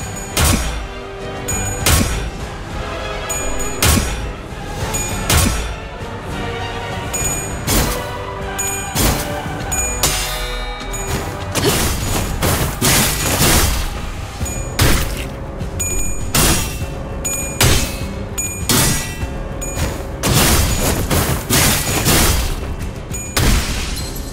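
Gunfire volley in the video game Limbus Company: a dense, rapid run of loud booming shots and crashing impacts fills the whole stretch, with heavy repeated bursts and almost no speech.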